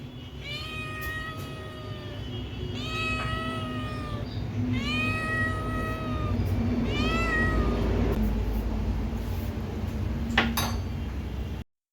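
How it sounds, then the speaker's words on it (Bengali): A small house cat meows in a home kitchen where tea is brewing, giving four or five clear, rising-and-falling meows close by over a steady background hiss and a faint clink of dishes. "সেটা দেখে আমাদের বাড়ির ছোট বিড়ালটা দেখো কি করছে"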